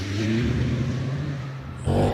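A Gould GRW59 single-seater hillclimb car with a 4-litre Judd V8 accelerating hard at Harewood, a loud, dense engine roar that holds steady and then surges again near the end.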